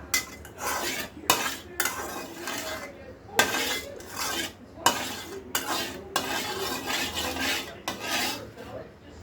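Maggi noodles with lemon pickle being stirred in a pan: repeated scraping, clinking strokes of a utensil against metal, close and fairly loud in uneven bursts, with no talking.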